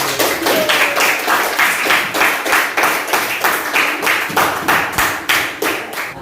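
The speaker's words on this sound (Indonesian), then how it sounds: "Tepuk tangan kepada" A group claps in a loose, steady rhythm, each beat sharp and close, continuing for several seconds without voices.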